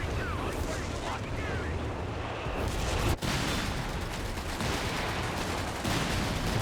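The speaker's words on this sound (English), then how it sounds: "The artillery overwatch happening." Artillery overwatch barrage in Company of Heroes 3, a dense continuous rumble of shelling and gunfire filling the whole stretch, with a sharp crack near the middle and a voice speaking over the battle din.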